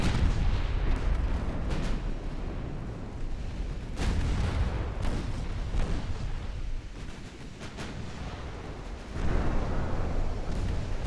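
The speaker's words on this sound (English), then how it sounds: "And one of those turrets is firing." Warship gun turret firing in Ultimate Admiral Dreadnoughts, during a 1903-era naval battle. Deep booming artillery blasts roll over a constant low rumble of sea and battle noise, with a few heavier thuds standing out.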